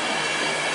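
A Class 90 electric locomotive-hauled train passes through Grantham station, giving a dense, steady rush of rail noise, loud and close, with no voices over it.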